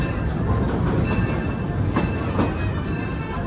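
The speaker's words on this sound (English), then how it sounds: "Would you remain seated until the train comes to a full stop?" The Disneyland Railroad train rolls along the rails at Disneyland, a loud steady rumble with faint rhythmic wheel clacks and light metallic squeals, heard from aboard and without speech.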